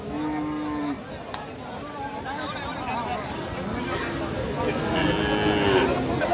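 Sahiwal bulls at a cattle market near the border moo several times, with long, drawn-out calls over the chatter of a crowd and someone talking nearby.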